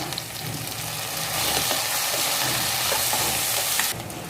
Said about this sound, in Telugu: కొంచెం అల్లం వెల్లుల్లిపాయ పేస్ట్ వేసుకుని ఇది కూడా వేగనివ్వండి.